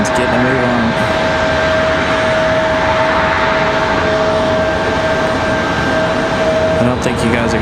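An Alaska Airlines jet departing Raleigh-Durham International on a windy day, its engines a loud, steady roar that holds constant with a faint whine running through it, apparently close by.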